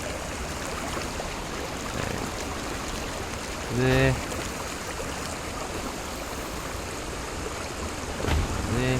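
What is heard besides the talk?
river flowing water in Conan Exiles video game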